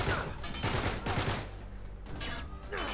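Rapid bursts of gunfire in Uncharted 3: Drake's Deception crackle in quick succession, with sharp shots clustered at the start and again near the end.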